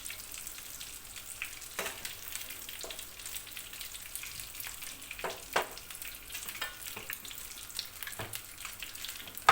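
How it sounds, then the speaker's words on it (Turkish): Tomato paste frying in butter in a pan, with a soft continuous sizzle and occasional stirring scrapes and clicks, close and fairly quiet. "Salçayı iyice kavurmam lazım."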